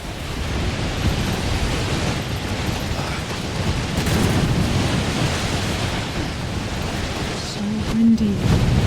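Wind in the video game Death Stranding blows in a loud, rumbling, gusty rush that swells and eases, ending with a brief tonal hum.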